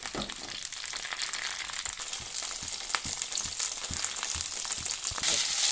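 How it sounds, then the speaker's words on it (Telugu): Stuffed eggplants for gutti vankaya curry fry steadily in a pan, a dense continuous sizzle with faint scraping clicks, close and fairly even throughout with no talk. "ఇప్పుడు ఈ వంకాయల్ని ఫిఫ్టీ పర్సెంట్ వరకు మగ్గబెట్టుకోవాలి"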